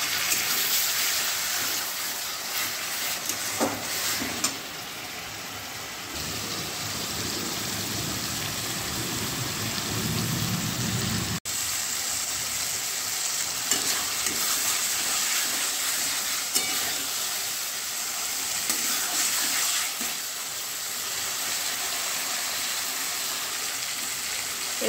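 Cabbage and peas sauté in a wok with a splash of water just added, giving a steady, close hissing sizzle that runs unbroken throughout, with no talking.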